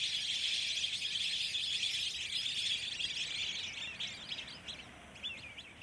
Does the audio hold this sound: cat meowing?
no